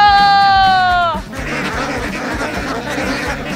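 A loud, drawn-out bleating call gives way to a flock of Alabio ducks quacking busily and continuously nearby while being fed, a rhythmic chorus of overlapping calls.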